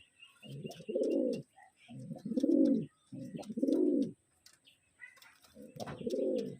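Pigeons kept by a fancier, of a flying breed, coo in five rounded, throaty phrases with short pauses between them, close and clear against a quiet background.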